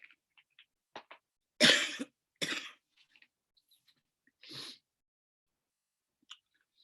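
A person chewing gum gives a few hard, close coughs, two of them strong and close together and another a little later. Small mouth clicks and breaths fill the gaps.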